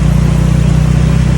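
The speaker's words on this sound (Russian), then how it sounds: "Главное, чтобы байк не заглох." A motorbike engine running steadily while riding through a flooded street in Pattaya, Thailand, a loud continuous low rumble with no talk.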